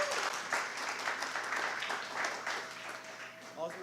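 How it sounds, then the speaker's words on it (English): An audience at a student chef competition claps faintly and fairly distantly, with voices and room murmur running beneath the applause. "So another big round of applause to all the students."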